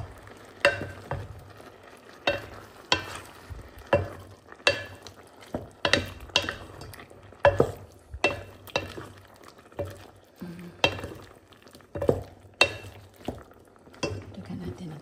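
Spoon scraping and clanking through beef caldereta with tomato sauce in a pan, a steady run of sharp metallic strokes over a faint sizzle, close and fairly loud.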